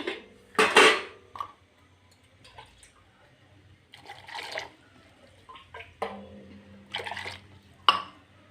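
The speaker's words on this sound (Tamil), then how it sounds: "ஊற்றிட்டு தண்ணி ஊற்றி அலசி ஊற்றிடலாம்" Clanking of metal pots and utensils with splashes of water poured in short bursts into a cooking pot while making Tamil lentil dumpling curry, sporadic and close, with quiet gaps between.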